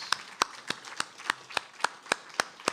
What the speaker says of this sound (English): Let's have some more applause for Paloma Barhaugh-Bordas.